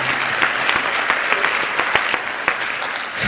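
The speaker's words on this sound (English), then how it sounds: "A round of applause for them," A live audience at a 2021 literary magazine show in Chicago breaks into dense, sustained applause, a loud continuous wash of many hands clapping with a few sharper claps standing out and no clear speech.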